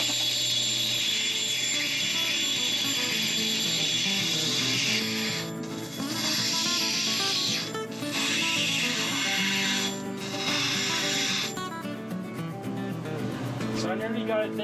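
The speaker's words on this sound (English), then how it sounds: "I'm going to do a little bit more finishing grinding on this cylinder" A loud, continuous grinding whine as a Brazilian rainbow agate marble is ground into a cylinder, a steady machine drone with a few short dips where contact eases, close and unbroken throughout.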